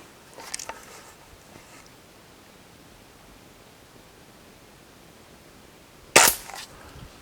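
Crosman 2100 Classic air rifle firing a .177 pellet after seven pumps, a single sharp close crack near the end after a quiet pause, preceded by faint handling clicks.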